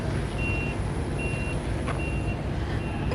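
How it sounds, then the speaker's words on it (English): Reversing alarm on a vehicle at the SpaceX Starbase launch site in Boca Chica, Texas: four evenly spaced, fairly distant high beeps over a steady low outdoor rumble and engine drone, with one brief click in between. "They are doing some beeping over here."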